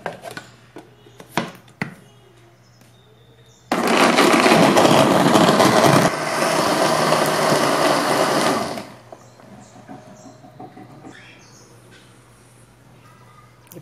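A blender whirs loudly for about five seconds, blending a soap mixture with vinegar, starting abruptly and cutting off, with quieter clinks and handling noises before and after.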